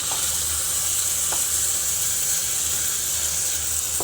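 Egg sizzling and frying steadily in a hot pan while being stirred, a constant close hiss with a few faint scraping taps and no talk.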